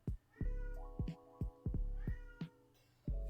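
A talkative house cat gives a rapid series of about seven short, insistent meows, each sharp and close, repeated at roughly half-second intervals with no talk over them.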